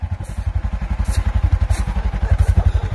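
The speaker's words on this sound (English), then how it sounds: "Sally's new on the bike." An ATV engine chugs in a sand pit, a close, loud, rapid rhythmic thumping putter with regular pulses throughout, with no talking over it.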